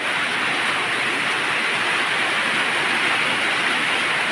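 Steady rain falls outside a small house amid vegetable plantings, a continuous dense hiss of drops holding even and fairly close for the whole stretch, with no voices.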